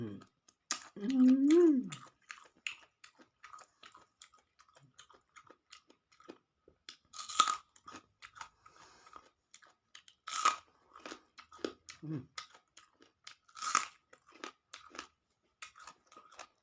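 Close, crunchy chewing of steamed squid tentacles eaten with spicy seafood dipping sauce: repeated wet bites and clicks at an irregular pace, with a brief burst of talk at the start.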